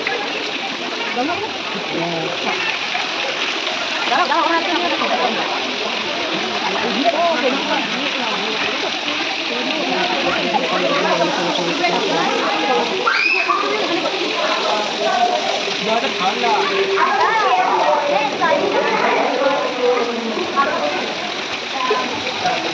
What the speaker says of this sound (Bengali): হ্যাঁ জল পড়ছে